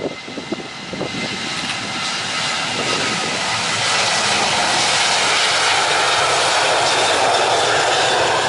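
Lion Air airliner's jet engines spooling up for takeoff at YIA airport in Indonesia, a loud, broad roar that builds and stays powerful and close, with no voices heard.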